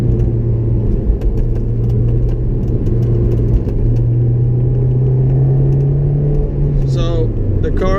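A Honda S2000 sports car brakes and downshifts to third gear, its engine rumbling steadily in the cabin with the pitch shifting as the revs change. Someone talks over the engine noise.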